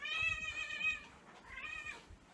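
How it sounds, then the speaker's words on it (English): A hungry cat meows loudly at morning feeding time: two drawn-out, wailing cries close by, separated by a short pause, with faint household shuffling underneath. "Now we feed the cats, since she's crying so much."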